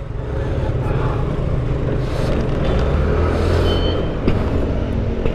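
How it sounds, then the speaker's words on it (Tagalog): Congested road traffic with trucks on a Philippine back road near a highway, a loud continuous rumble of idling and crawling engines with a hiss of air brakes, close by and sustained. "Nagta-traffic oh."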